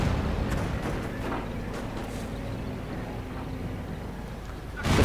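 Calliope rocket artillery barrage in a World War II strategy game: a dense, continuous rumble of launches and distant impacts rolling on steadily, low and heavy, swelling again at the very end.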